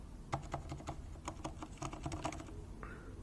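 Someone types on a keyboard fitted with greased switches and pudding keycaps, giving a quiet, soft, rapid patter of keystrokes in an uneven rhythm, heard close with no talking.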